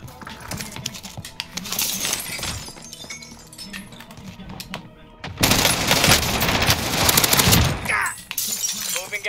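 Dense automatic gunfire and bursts from Call of Duty Warzone (Rebirth, XM4 rifle), loud and continuous with a heavier barrage in the second half, mixed with game clatter and a player talking.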